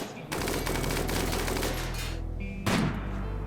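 Rapid sustained gunfire from colonists in the video game Rimworld, a loud dense rattle of automatic shots running for a few seconds, with a brief pause and then a short heavier burst near the end.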